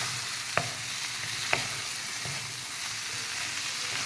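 Chicken fry being stirred in a pan with pepper powder and coriander, a soft steady sizzle under a few sharp spoon scrapes and taps against the pan, quiet and close with no talking.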